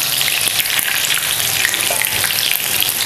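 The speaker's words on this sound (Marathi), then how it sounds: "तर आहे ना ह्या पद्धतीने आपल्याला हे तळून घ्यायचं" Chicken leg pieces fry in hot oil with a dense, continuous crackling sizzle, close and loud throughout, with no talking.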